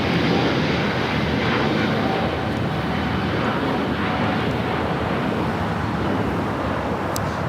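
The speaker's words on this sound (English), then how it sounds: "That's the Air France A350 heading back to Paris, taking off here on the south side." An Air France Airbus A350 takes off from the south side of Los Angeles International Airport, its engines a loud, steady, broad roar that holds for the whole stretch, heard from a distance outdoors with wind buffeting the microphone.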